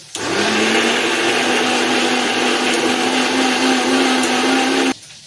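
A kitchen blender grinds spice paste for a snakehead fish curry, one loud, steady whirring run of about four and a half seconds that stops abruptly.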